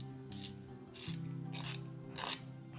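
A pencil sharpener grinding a woodless colored pencil in short repeated bursts, a raspy scraping rhythm with a low mechanical whir between strokes, close and fairly quiet.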